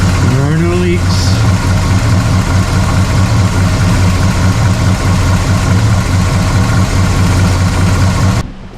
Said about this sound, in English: Idling in the garage is one thing